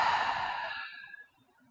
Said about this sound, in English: out through the mouth, letting it go